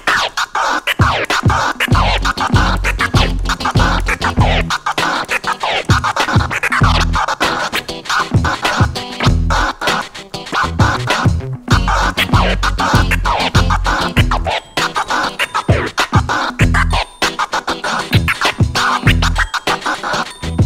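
Rapid, choppy DJ transform scratches on a turntable are cut into stuttering bursts over a pounding beat, with the rhythm chopping on and off throughout.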